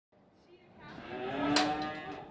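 A cow at a farm gives one long, rising moo, close and clear, with no talk.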